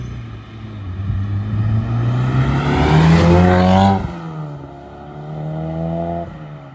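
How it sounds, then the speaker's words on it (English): Honda Civic FL5 Type R with a 3-inch exhaust into dual 2.5-inch pipes pulls hard at medium throttle, the engine note rising steadily through the gear, then dropping at a shift and climbing again, loud and close. "All right, let's get a sound clip. Just gonna do a medium throttle run."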